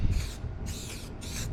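Aerosol tire shine sprays onto a car tire outdoors on a windy day in three short hissing bursts separated by brief pauses, close and steady under a low background rumble.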